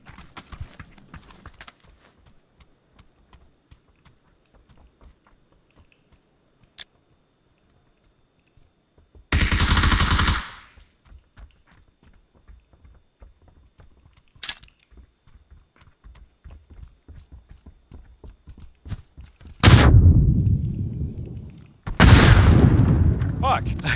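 Gunfire in the PUBG video game, scattered sharp shots with a few dense loud bursts among quiet gaps and faint clicking, alongside occasional player voices.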